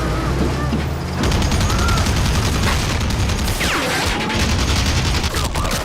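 Machine gun fire from a war film, as Burmese troops' weapon is turned on them, rattling loud and dense as a continuous fusillade with booming low rumble throughout.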